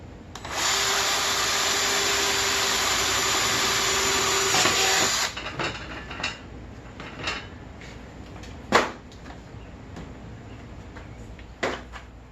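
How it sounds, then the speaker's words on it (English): A power drill whines steadily for several seconds as it drills the corners of a plastic container, then stops, followed by scattered clicks and light handling noises. "drill the corners"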